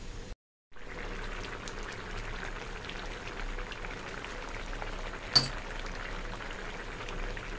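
Thai gourd and chicken curry simmers in a pot with a steady, soft bubbling hiss that runs almost throughout, broken by a brief gap near the start and a single sharp clink midway.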